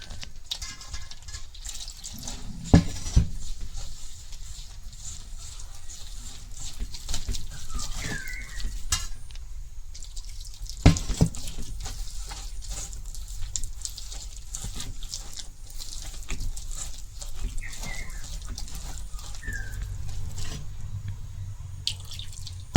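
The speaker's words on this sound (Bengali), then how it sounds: "জল দিয়ে এখন আমি মিশাই" Water is poured and mixed into a jackfruit pakora batter of rice flour and salt, giving drips, trickles and wet slopping at close range, with a few sharp clinks near the start and middle, and no talk.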